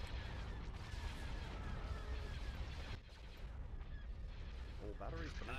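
Starship batteries firing in the Star Wars Empire at War mod Thrawn's Revenge, a dense, steady barrage of heavy cannon blasts rumbling throughout, with a brief dip near the middle and a voice talking over the fire.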